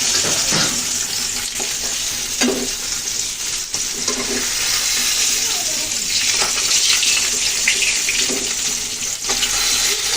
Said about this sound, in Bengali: তো বন্ধুরা দেখুন মাছগুলো আমি লাল করে ভেজে নিয়েছি এখন তুলে নিচ্ছি